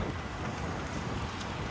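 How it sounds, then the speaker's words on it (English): Steady, dense wind noise buffeting outdoors, continuous and fairly loud with no voices. "And of course, it is windy"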